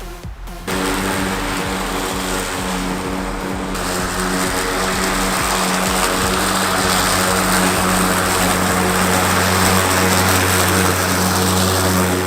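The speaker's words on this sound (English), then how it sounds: "my dad is cutting the grass, and you'll notice that it's not that loud" Steady droning motor hum of an Ego electric lawn mower cutting grass continuously, with a strong low tonal whine and no speech.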